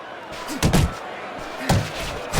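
Right-hand punches thud against the head in Fight Night Champion boxing, two distinct slapping impacts about a second apart over a low arena crowd murmur, with a commentator talking.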